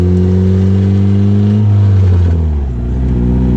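Turbocharged Mazda Miata engine fitted in a kart on its first drive, loud and close as it accelerates, the pitch of the engine climbing steadily before easing off near the end, with no voices.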